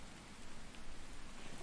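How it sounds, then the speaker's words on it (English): Steady rain falls in The Infected survival game, a dense, even hiss of drops spread across the whole short stretch with no voices over it. "Take advantage of it while it's raining,"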